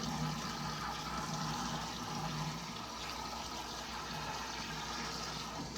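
Cold tap water pours steadily over cooked pasta in a colander to chill it for a pasta salad, a constant soft rushing and splashing with no talking.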